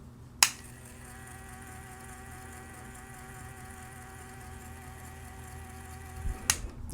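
A steady motor whir with a faint high whine from a Glass Bead Pro bead spinner runs throughout at moderate level, with a sharp click at the start and clicks near the end.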